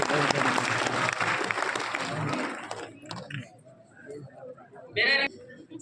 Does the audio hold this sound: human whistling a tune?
no